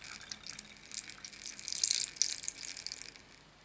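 Water pours into a bottle while mixing homemade airbrush cleaner, a faint, hissy trickle that swells in the middle and then tapers off.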